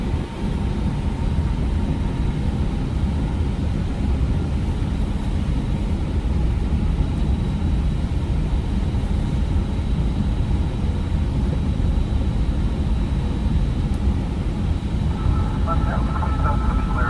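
Aircraft taxiing on the ground at around 20 knots, a steady loud engine drone with a thin high whine running throughout, while an instructor talks over it.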